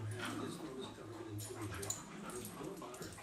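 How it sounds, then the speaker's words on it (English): Dogs play-wrestling, giving soft whimpers and small yips close by over a steady low hum, with the scuffling sounds continuing through the whole stretch. "Dogs wrestling like this have always reminded me from the very beginning when I started observing dogs of wrestlers."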